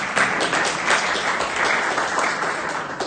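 Audience applause at a county candidate forum, a dense steady wash of many hands clapping at even loudness throughout, with no speech over it.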